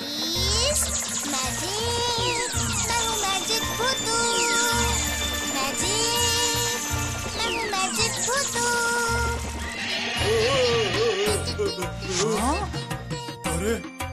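Cartoon horses, magically changed from bulls, whinny and neigh repeatedly over a bouncy music score with jingles and a few clip-clop hoofbeats, loud and close, with a voice speaking in places.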